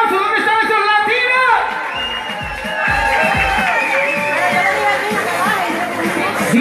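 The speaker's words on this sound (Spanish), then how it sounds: "Así que quiero un fuerte aplauso." Crowd at a Central American and Caribbean awards show cheering, whooping and chattering for urban singers taking the stage, a dense continuous roar with scattered shouts, while an announcer talks over it.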